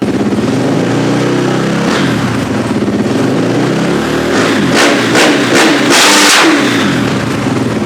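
A Kawasaki KX dirt bike engine revs up and down outdoors in freezing cold to warm the oil, loud and close, with several sharp throttle blips toward the end.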